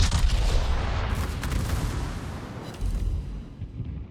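Naval gunfire in a warship video game, with light cruiser shells incoming, comes as a dense, continuous rumble of overlapping booms and blasts, loud and sustained throughout.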